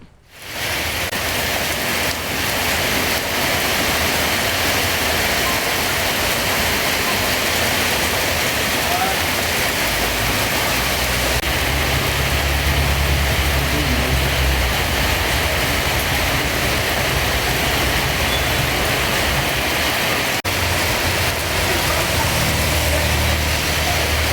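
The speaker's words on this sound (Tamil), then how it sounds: "இரண்டாவது நாளாக இடி மின்னலுடன் மழை பெய்து வருகிறது" Heavy rain pours steadily in Gudalur in the Nilgiris during a thunderstorm, a dense continuous hiss throughout with low rumbling swells underneath, loud and close.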